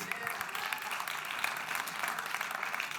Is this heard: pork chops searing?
no